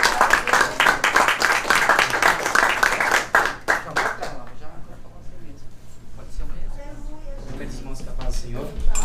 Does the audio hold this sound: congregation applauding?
yes